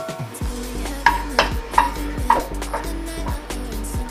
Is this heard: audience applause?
no